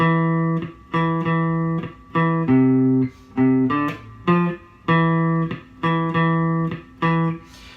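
A distorted bass guitar plays a repeating riff from a song, punchy plucked notes in a steady rhythm, with no voices.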